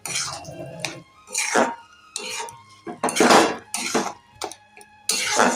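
Small shrimp are stirred in a pan for a bottle-gourd peel mash, with a metal spatula scraping and clanking against the pan in loud, repeated bursts separated by short pauses. No voices.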